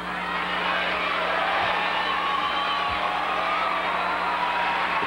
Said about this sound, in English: The crowd is reacting to other activities in the arena.